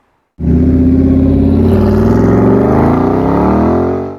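A Noble M600 sports car engine revs hard and pulls away, its loud, steady roar climbing in pitch as it accelerates close by for about four seconds.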